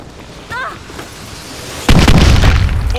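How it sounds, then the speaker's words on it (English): An orbital drop crashes down in Call of Duty Advanced Warfare Zombies, a sudden heavy boom erupting midway and rumbling on loudly, preceded by a brief electronic chirp and low game ambience. "Orbital drop!"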